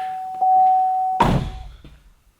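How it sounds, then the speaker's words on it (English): A single solid thunk of a 2012 Camaro's door shutting, close by, preceded by a steady electronic tone that stops just as the door closes. "Let me see what happens when I shut the door."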